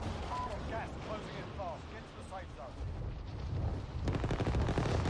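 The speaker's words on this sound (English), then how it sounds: "so many people are trying to shoot out of there" Dense gunfire in a Warzone match, distant and muffled at first, then a sustained rattling volley growing louder toward the end, with faint chirping sounds in the background.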